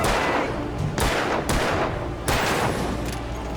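Heavy gunfire from the game Alan Wake booms in a few loud, close shots spaced about half a second to a second apart, each trailing into a rumbling echo.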